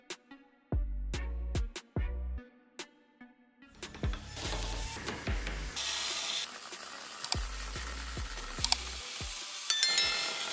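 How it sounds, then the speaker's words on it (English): A milling machine carves a wood sculpture of Zenitsu from Demon Slayer in irregular bursts: sharp clicks and short grinding passes early on, then a longer, steadier cutting whir, all fairly close and with no talk. "we continue with the milling machine, refining the volumes of the pants, deepening the folds"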